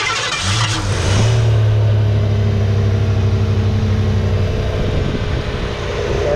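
A 1986 Mercury Capri ASC McLaren with low original mileage cranks briefly and fires up, its engine catching and revving up into a loud, steady idle close by with no talking.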